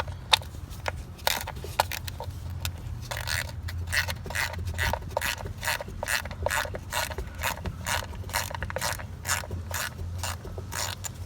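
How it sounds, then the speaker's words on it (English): A ratchet wrench clicks in fast, steady rhythmic bursts, close and clear, as it backs out an already loose bolt on a 2006 Chrysler Town and Country minivan. "We'll start with taking off this already loose bolt."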